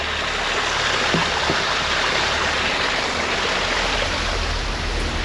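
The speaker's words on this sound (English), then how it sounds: "Oh, a little waterfall there." Steady rushing water from a small waterfall beside an abandoned railway tunnel route, a constant broadband wash with no breaks, fairly close, with no talking.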